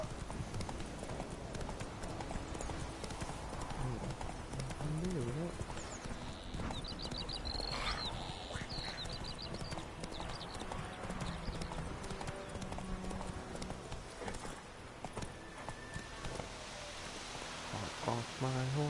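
A horse gallops in the video game The Witcher 3, steady rhythmic clip-clop hoofbeats running under game sounds and occasional talk, with a brief neigh partway through.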